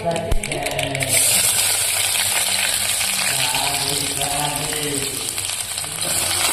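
Chopped onions and mustard seeds frying in hot oil for radish sambar, a loud continuous sizzle with crackling pops and occasional stirring scrapes, close to the pan.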